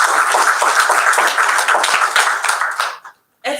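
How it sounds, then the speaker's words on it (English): An audience at the 2019 TUT Chancellor's award ceremony claps in a dense, lively burst of applause. It thins near the end and then cuts off abruptly, leaving brief silence before a faint sound resumes. "I think we all deserve a round of applause"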